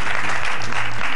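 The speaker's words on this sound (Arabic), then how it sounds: "صفقوا عليهم عائلة فلاح" A studio audience on the Algerian family show Familetna claps steadily to welcome the Fellah family, with dense, even applause throughout the brief burst.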